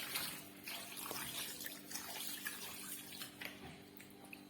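Water poured into a cooking pot for ogbono soup, a steady quiet trickling and splashing stream that runs continuously for several seconds, close by.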